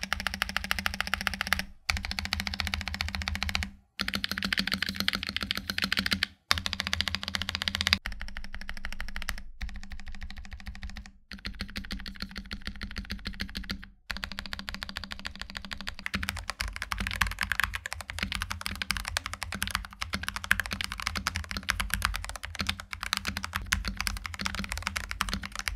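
Rapid clacking of a mechanical keyboard being typed on, steady bursts of keystrokes with a few short pauses, close and fairly quiet.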